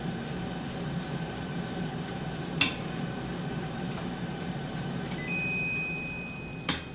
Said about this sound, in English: Do you hear my air fryer?